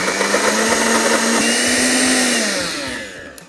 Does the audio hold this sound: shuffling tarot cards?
no